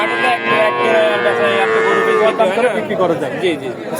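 A crossbred cow moos in one long, loud, wavering call close by at a livestock market, with people chattering faintly in the background.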